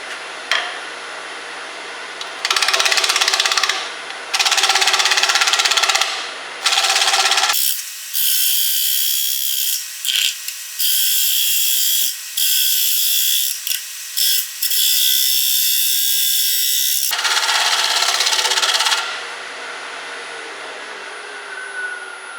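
Wood lathe turning a dog face bowl at almost 1,000 RPM, a loud steady whir broken by bursts of rough cutting and scraping as the tool bites the spinning wood.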